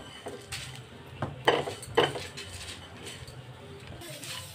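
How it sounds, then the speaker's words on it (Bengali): Whole spices are dry-roasted in a pan and stirred with a utensil, giving close irregular scrapes and a couple of sharper metallic clinks over a soft rustle. "আমি একটু ভালো করে ড্রাই রোস্ট করে নেব।"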